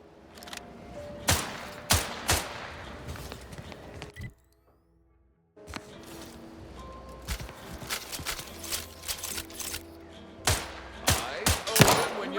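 Gunfire in the video game The Outer Worlds 2, a series of sharp shots and bursts scattered across the scene with a brief silent gap midway, some footstep-like thuds and game ambience between.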